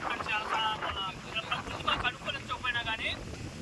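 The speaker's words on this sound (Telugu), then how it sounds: "గాలి బాగా విపరీతంగా వచ్చింది" Strong wind gusts on a hilltop beside a deep well during outdoor cooking, rumbling and buffeting the microphone steadily while a person talks over it.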